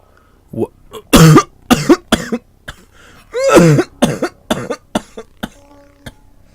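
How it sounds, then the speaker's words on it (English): A person coughs repeatedly in harsh, close bursts, with a couple of longer fits and some throat clearing between them. "Then, I started coughing."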